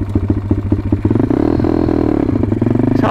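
A pit bike engine revs in choppy bursts, then holds a higher buzzing note as it shifts gear, loud and close with some clatter.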